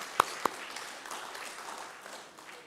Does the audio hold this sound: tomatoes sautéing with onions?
no